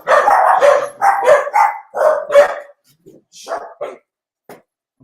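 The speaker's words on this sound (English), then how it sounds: "For the record, I have no idea what they're barking at." Dogs barking close by and loud in a burst of rapid, overlapping barks, then a few scattered yips and single barks with short silences between them.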